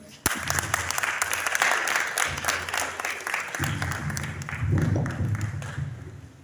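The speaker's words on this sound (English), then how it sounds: "clap for them?" A graduating medical class is applauded by the audience with a sustained wash of many hands clapping indoors, and a voice speaks briefly over it.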